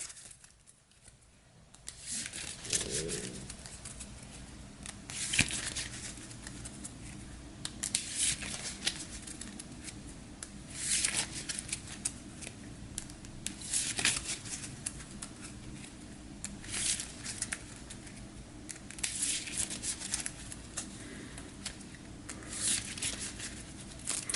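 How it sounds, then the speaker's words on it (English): A deck of tarot cards is shuffled in repeated riffling bursts, crisp papery flutters recurring every couple of seconds over a soft steady background, close and fairly quiet, with no talking. "Give this a quick shuffle."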